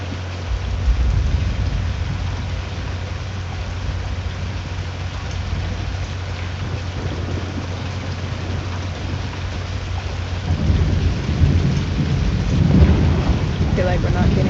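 Steady rain and rumbling thunder in the storm-chasing video game Twisted, a dense continuous wash of rainfall with a low rumble swelling louder near the end.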